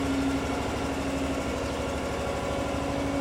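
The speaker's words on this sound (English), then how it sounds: "This self-propelled stump grinder is driven from within to wipe out stumps with a 30 horsepower 999cc electric start engine" The 30 horsepower 999cc electric start engine of a Holt Eraser HGW30 self-propelled stump grinder runs at a steady idle, a close, even, vibrating drone with no change in pitch.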